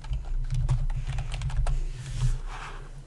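Keys clatter on a computer keyboard as a system name is typed into trading software, a quick run of close, irregular clicks under a constant low electrical hum.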